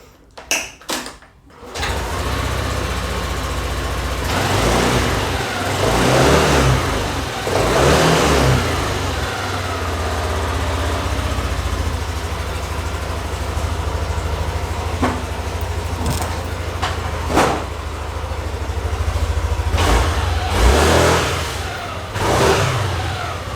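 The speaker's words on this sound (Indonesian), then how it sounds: "sebelumnya gue bakal nyalain mesin" A few clicks precede a motorcycle engine fitted with a Daytona dual-plate clutch and cartel bowl as it fires up and settles into a close, rumbling idle, then gets blipped into several sharp revs at irregular intervals, with no voices heard.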